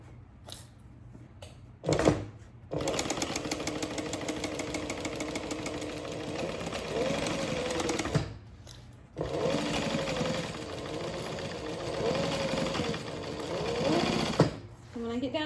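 A home sewing machine sews a backpack, running in several long, close stretches of loud, even stitching that are separated by brief pauses and a few sharp handling thumps.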